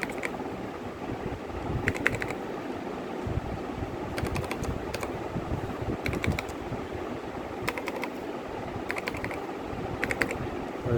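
Computer keyboard keys tapped in short quick bursts as a vehicle number is entered on a desktop parking bill machine, separated by pauses against a steady low background hum.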